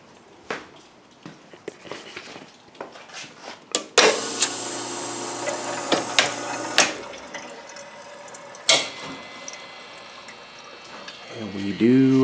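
Water from a supply line rushes into a Grindmaster ESP2 espresso machine under rebuild, a sudden hissing flow starting a few seconds in after scattered clicks and taps, with a voice speaking briefly amid the noise.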